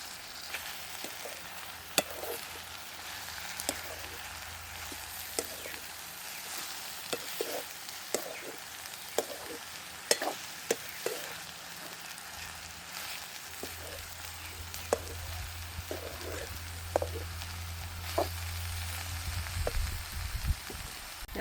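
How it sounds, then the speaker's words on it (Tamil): Onions sizzling with eggplant in a frying pan in a village kitchen, a steady soft crackle throughout with occasional sharper pops and stirring clicks, fairly quiet and close. "இது கொஞ்சம் பொரியத்தானே வேணும், அப்போ கொஞ்சம் நேரத்துக்கே சேர்க்கிறோம் இது பொரிகிறதுக்காக"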